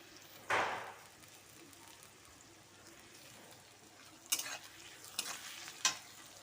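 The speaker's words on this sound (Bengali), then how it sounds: "পেঁয়াজের সাথে রসুনটা ভালো করে ভেজে নেব।" Crushed garlic frying with chopped onions in a pan for village-style cauliflower ghugni, a soft steady sizzle with a few sharp scrapes of stirring near the start and toward the end.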